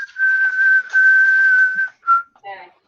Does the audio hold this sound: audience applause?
no